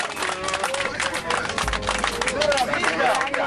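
A tour group claps for their driver, a dense burst of many hands applauding together, loud and close, mixed with murmuring voices and cheering.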